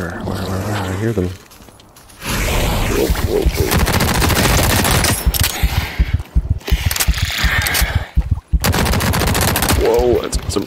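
Loud bursts of automatic gunfire in the shooter game The Cycle: Frontier, close and heavy with hard recoil, broken by brief pauses, with a voice talking over parts of it.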